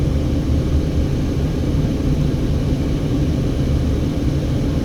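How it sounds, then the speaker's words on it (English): A car driving across the Hoover Dam on the Interstate 11 bypass bridge gives a steady, loud rumble of road and engine noise with no break and no talk. "We're driving over the Hoover Dam."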